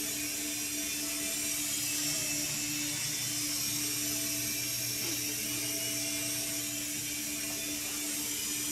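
Small Syma Speed S5 RC toy helicopter hovering nearby, a steady high-pitched electric whine of its motor and rotor with constant buzzing hum, unbroken and alone throughout.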